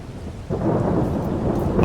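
Rain and thunder in Farming Simulator 22 on the Korpi, Finland map: steady rainfall, then a deep rumble of thunder swells in halfway through and rolls on loudly with no voices.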